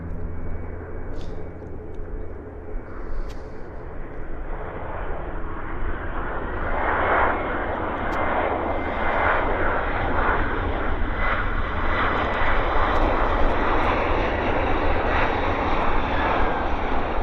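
Airliners arriving at Vancouver Airport, a loud, sustained roar of aircraft engines that swells and stays strong as a plane passes close overhead, steady and broadband with no talk.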